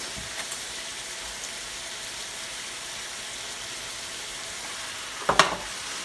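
Pasta boils in a pot with a steady, close bubbling and crackling hiss throughout, ending with a brief clatter.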